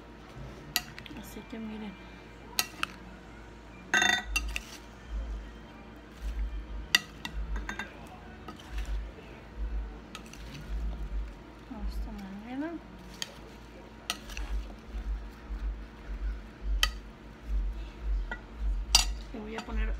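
A spoon stirs fruit bionico with sweet milk cream in a bowl, giving soft repeated clinks and wet squishing scrapes close by, while a person talks over much of it.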